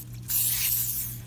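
Single short burst of liquid sprayed from a spray bottle into a hydration box, a close, soft hiss that starts abruptly and fades over about a second.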